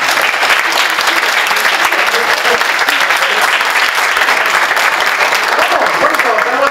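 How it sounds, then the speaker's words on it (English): An audience claps steadily and densely, a broad crowd applause filling the room at full volume from start to finish. "But y'all started clapping already."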